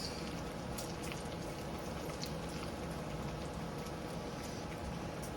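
Bacon sizzling in a stir-fry pan, a steady dense crackle and hiss of frying fat, soft and continuous, with no talk.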